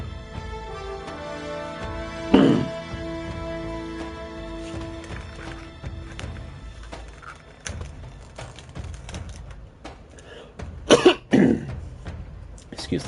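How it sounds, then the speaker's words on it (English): Several harsh, close coughs, one early and a cluster near the end, heard over background game music and sound effects from Uncharted 3: Drake's Deception. "Excuse the cough."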